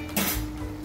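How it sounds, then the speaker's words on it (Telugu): A lid is set down on a cooking pot of fish curry (chepa iguru), producing a single short clattering knock with brief ringing, close by and fairly loud against a quiet kitchen background. "మూత పెట్టేశాను."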